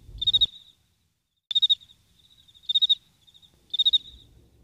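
Crickets chirp in a park, with four short, clear trilling bursts spaced by silent gaps, each one close and distinct.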